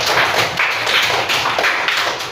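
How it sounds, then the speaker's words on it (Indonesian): Classroom students clap for group 3, a dense, steady patter of many hands filling the room, loud and close with no speech over it. "Kelompok 3, berikan tepuk tangan yang lebih meriah lagi di kelompok 3"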